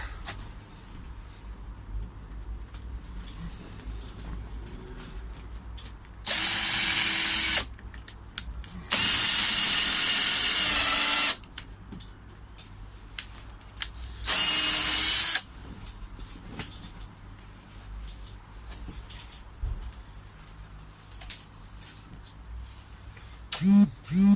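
A power drill drives 3-inch screws through pilot holes into timber while strengthening a koi pond, in three loud bursts: a short one, a longer sustained run, then another short burst, with quiet pauses between.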